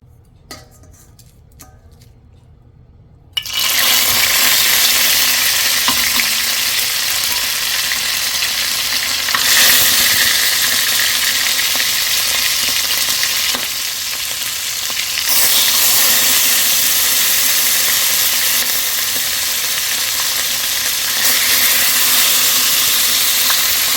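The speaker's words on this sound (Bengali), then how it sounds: "এখন মাছগুলো হালকা ভাজা দিয়ে নিব" After a quiet start, a loud burst of sizzling erupts as giant freshwater prawns, rubbed with turmeric and salt, hit hot oil, crackling steadily with occasional utensil clinks and brief dips.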